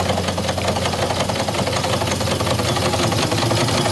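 Quarter scale steam donkey engine with boiler running steadily, a loud continuous chugging, knocking mechanical rumble with dense broadband hiss throughout and no voices.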